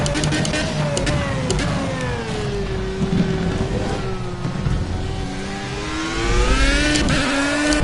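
A Formula A open-wheel race car in Project CARS howls through a hot lap, its high-revving engine climbing and dropping steadily through the gears, loud and continuous with no one talking.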